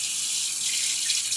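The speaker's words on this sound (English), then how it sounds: "I'm going to fill up the bucket with halfway full of hot water." A tap runs steadily into a bucket as it is filled about halfway with hot water for homemade laundry detergent, giving a continuous close, bright rushing splash with no voices.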